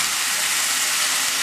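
Chickpeas go into a hot pan with onions and garlic and set off a loud, steady, broadband sizzle that holds evenly throughout, with no talking.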